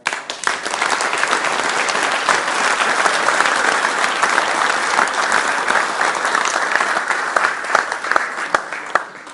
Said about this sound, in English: And I would ask you to join me in a ripple of applause for them.